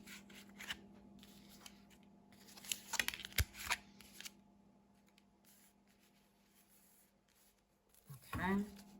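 Tarot cards are drawn from a deck: quiet papery rustles, slides and light flicks, busier in the middle, with a louder scraping shuffle near the end.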